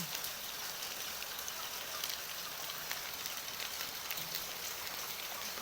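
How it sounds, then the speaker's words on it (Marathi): Steady, even heavy rain hiss fills the background, fairly faint and unbroken, with no voices or other distinct sounds. "खूप पाऊस पडत आहे"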